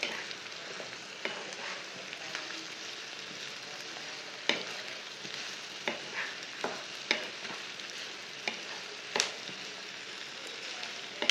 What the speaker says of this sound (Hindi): प्याज और भिंडी को एक साथ भून लेना।